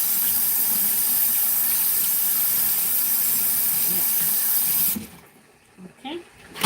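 Cold tap water runs in a steady broadband rush while fish is rinsed in a home kitchen sink, then cuts off near the end, leaving quieter handling noises.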